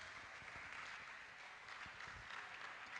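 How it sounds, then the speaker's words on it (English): Audience applause at a live youth development event: steady, dense clapping that holds at an even level for the whole stretch, with no voices on top. "Please continue giving him a wonderful round of applause"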